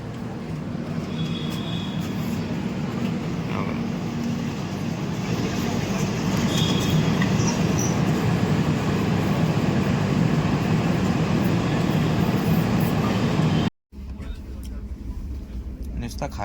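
A passenger train rolls steadily through on the way from Mumbai to Amritsar, a loud continuous rumble of wheels and carriages with faint squeals, someone talking over it, then a sudden cut to quieter station ambience.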